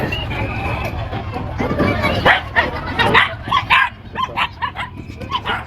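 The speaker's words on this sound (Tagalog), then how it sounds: "Galit yung aso." A dog barks repeatedly and agitatedly, sharp yaps in quick bursts outdoors beside the sea, over steady wind noise and faint background chatter.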